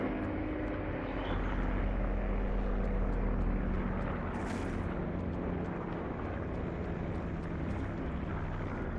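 A supply drop aircraft passes overhead in a battle royale shooter: a continuous, heavy roaring drone with a deep rumble that stays loud and steady throughout, with a brief hiss partway through.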